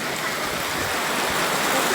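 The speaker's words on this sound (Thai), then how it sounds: "ฝนตกนะครับ ฝนตกแต่ว่ายังบินครับ" Rain falls outdoors in a steady, dense hiss with no breaks, fairly loud and even throughout, with no voices.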